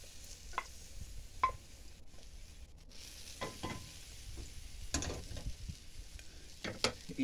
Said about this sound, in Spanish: Le voy a echar a los chicharrones la cebolla.